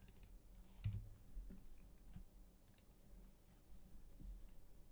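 Keys of a computer keyboard being sat on, producing sparse, uneven clicks and dull thumps with one heavier press near the start, quiet and close against a faint background.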